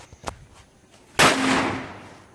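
A firecracker going off outdoors: a small sharp pop early on, then a single loud bang with a crackling, decaying tail lasting about a second, with no talk.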